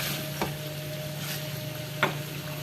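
Chicken tikka karahi fries in a pan over a high flame with a steady, soft sizzle, broken by a couple of scraping stirs of a spoon against the pot.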